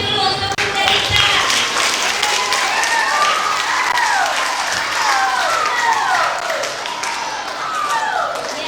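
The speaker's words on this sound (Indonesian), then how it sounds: "Mana tepuk tangannya dulu untuk Bunda Rita." Children and adults at a church Christmas celebration applaud steadily for someone speaker, a dense wash of clapping filling the room with cheering and excited voices mixed through it.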